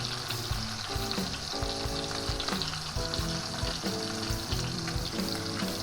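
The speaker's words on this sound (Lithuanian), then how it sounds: "Dabar imam į miltus, į kiaušinį, į petelnį," Flour-, egg- and breadcrumb-coated pork steaks frying in hot oil in a pan, a steady loud sizzle with crackling pops that runs without a break and with no voices.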